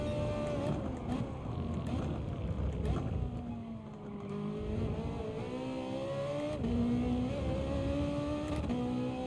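A racing car engine in GT Sport revs and drops repeatedly, rising and falling pitch through gear changes, loud and continuous with a game-like mix.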